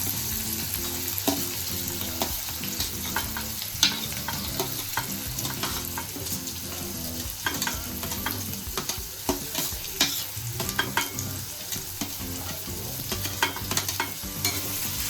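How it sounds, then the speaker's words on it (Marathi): Finely chopped onion sizzles in oil in a wok while being stirred, with a steady frying hiss and frequent scraping stir strokes, close and continuous. "आता त्यामध्ये आपण जो बारीक चिरलेला कांदा आहे तो टाकून घेणार आहे"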